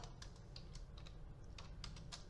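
Quick, light keystrokes patter on a computer keyboard in a quiet room, a close run of soft clicks at an even pace with no voices.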